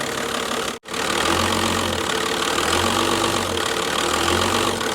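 A Dodge truck engine runs at a steady idle after a brief cut, a loud continuous rumble with a low throbbing pulse and no voices.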